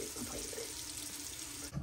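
Warm water runs steadily from a tap into a sink, a continuous close hiss and splash lasting nearly two seconds before cutting off abruptly.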